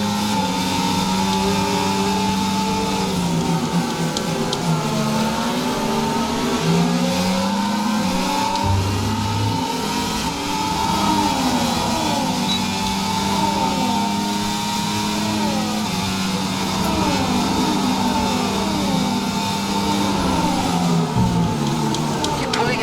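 A Formula 1 car races along a straight at Bahrain in the F1 24 video game, its engine whining loudly and steadily with rising and falling pitch as gears change, while other cars' engines layer close by throughout.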